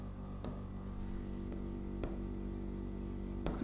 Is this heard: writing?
yes